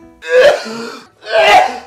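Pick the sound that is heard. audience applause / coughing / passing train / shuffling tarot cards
coughing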